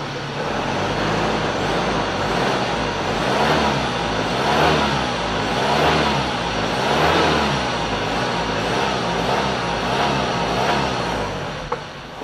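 A 2012 Ford Ranger XLS pickup with a turbo engine driving on the road, a loud, steady engine drone heard from inside that rises and falls in repeated swells as it accelerates, with road rumble underneath.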